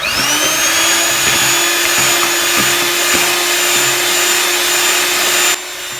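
An electric hand mixer beats carrot cake batter with sugar, a steady, loud motor whine that holds without a break for about five seconds, then drops slightly in level near the end.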